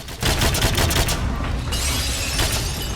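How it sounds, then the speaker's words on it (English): Nail gun fight in the 007: Quantum of Solace video game, set in a sinking building in Venice: dense, loud rapid-fire bursts of shots and cracks with rattling and crashing debris, continuous for a few seconds. "Bond follows Vesper to this meeting location, and he gets into this nail gun fight"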